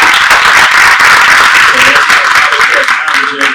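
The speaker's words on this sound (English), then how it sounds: "Clap up for that" An audience at a bookstore conversation event claps loudly and steadily, with a speaking voice coming in over the clapping toward the end.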